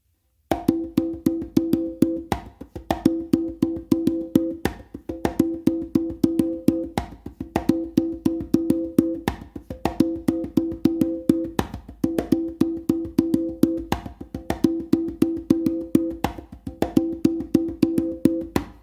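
Congas playing a funk 3 in 1 pattern, steady repeating bursts of crisp hand strokes and open tones cycling in an even groove, close and clear with no talking.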